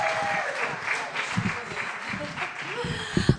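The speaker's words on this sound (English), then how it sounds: "please, large round of applause for Mel." Audience applause for comedian Mel at a comedy show, a moderate wash of clapping from the crowd lasting a few seconds, with talk over it.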